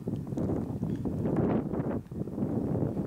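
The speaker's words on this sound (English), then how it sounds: "It's a little windy out here" Wind gusts across a mountaintop on a hike, a loud, rough blustering roar with surging swells, buffeting the microphone throughout.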